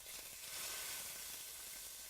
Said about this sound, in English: I'll put a little butter in there and it should just really sizzle.